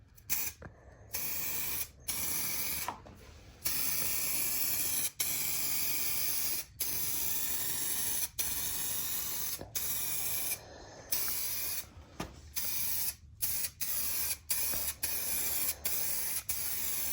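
A spray gun lays basecoat and clearcoat paint onto an RSX car bumper in close, hissing bursts, each lasting a second or more and separated by brief gaps of quiet.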